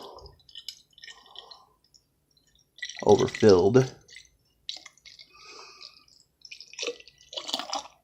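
Homemade teriyaki sauce pours into a bottle as soft dripping and liquid trickling, interrupted by a person talking close by.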